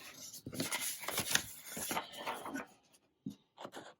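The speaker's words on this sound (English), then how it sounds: "I'm gonna go and just cut the big chunks out first here." Scissors snipping through a paper quilting template for a New York Beauty block, quiet close crisp cuts and paper rustling in uneven bursts with short pauses between.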